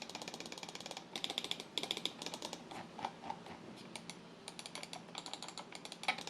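Rapid, crisp clicks of a HATOR Quasar 2 Ultra 4K wireless computer mouse in quick bursts and clusters, close up and fairly quiet, with no talking.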